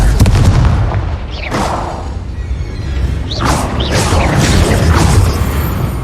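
Confringo fire spell in Hogwarts Legacy bursting in a series of loud booming explosions, with rumbling low thumps and crackling blasts that repeat across the stretch, dense and close.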